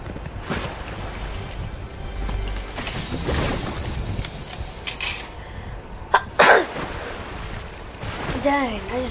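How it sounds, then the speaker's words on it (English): A sneeze bursts out once near the middle of a Fortnite gaming session, set against steady wind-like game ambience and scattered short sounds. "Dang, I just sneezed."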